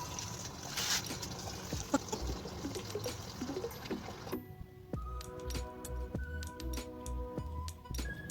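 Liquid hydroponic nutrients are squirted from a syringe into water, giving a sustained close trickling and pouring with small splashes and squelches, then a quieter stretch of faint dribbles and clicks.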